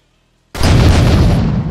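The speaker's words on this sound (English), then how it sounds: "What's a better way to end this than shooting this gas can?" A gas can explodes after being shot in the video game Road to Gramby's, a single loud, sudden boom that breaks a short silence and then roars on with heavy rumbling.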